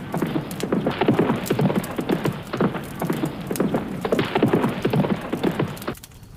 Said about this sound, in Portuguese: o cavalo saiu em disparada